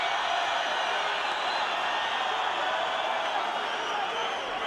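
Kazakh boxing crowd at a World Series of Boxing team final roaring steadily as their fighter Zhakupov lands, a dense, loud and continuous arena cheer with no individual voices standing out.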